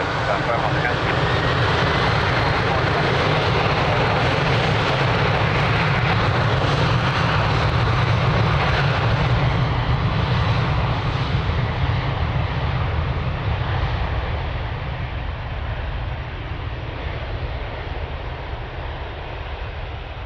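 An aircraft takes off from runway 02 at Lisbon Airport with a powerful, steady engine roar that gradually recedes into the distance, with talk faintly over it.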